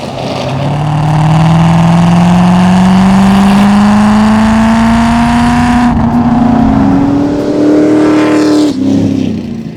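A 2012 Chevrolet Corvette Grand Sport's LS3 6.2-liter V8 with Lingenfelter modifications revs up in one long sustained pull, loud and close, the pitch climbing steadily before easing off near the end.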